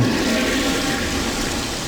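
A toilet flushes in a Skibidi Toilet animation: a loud, steady rush of swirling water fills the whole moment without pause, with no talk over it.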